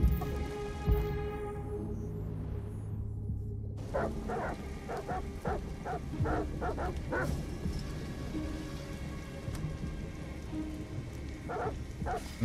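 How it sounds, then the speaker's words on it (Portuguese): Dogs barking in the video game Detroit: Become Human, a quick run of sharp repeated barks cutting through steady rain, then fainter scattered barks later on. "Porra de cachorros. Por que eles não param de latir?"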